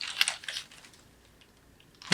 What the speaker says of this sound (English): Here's a Dell keyboard.